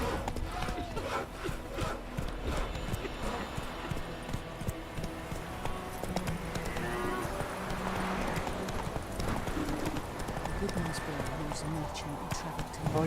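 Hooves of the horse Roach pound rhythmically in The Witcher 3 video game, a steady clip-clop gallop running throughout beneath game music and ambient effects, with voices speaking over it.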